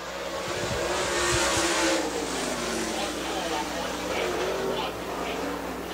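A super late model race car runs a qualifying lap at Dixie Speedway, its engine droning loudly and rising and falling as it circles the dirt oval, under a track announcer's talk.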